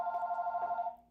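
A household telephone rings at moderate distance, a steady electronic trilling tone that warbles rapidly for about a second and then stops.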